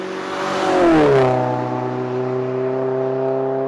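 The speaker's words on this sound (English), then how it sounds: "So it'll be a Corksport Midpipe with a Borla axleback exhaust, which is kind of cool." A Mazda 3 fitted with a Corksport midpipe and Borla axleback exhaust revs up loudly, then settles into a steady droning idle, heard up close with no talking.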